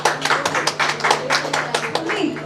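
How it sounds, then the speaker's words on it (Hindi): A small crowd at a child's second birthday party claps in an uneven, lively burst of applause to welcome a performer, close and fairly loud over a faint background hum. "जोरदार तालियों से स्वागत करेंगे रितिशा क्यूसरा फ्रॉम मंडलेश्वर"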